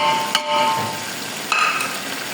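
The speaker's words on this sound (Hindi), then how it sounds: "दही डाल दिया, साथ ही हम ये सब्ज़ी मिर्चें डाल देंगे" Yogurt and green chilies going into a hot frying pan for Sindhi biryani give a steady close sizzle with brief stirring clatters near the start and middle.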